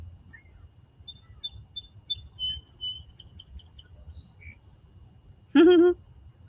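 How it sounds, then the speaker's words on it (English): Small birds chirp outdoors in a scattered run of short, high tweets at moderate distance, ending in one loud, close burst of rapid chirping, over a low steady background rumble. "the birds"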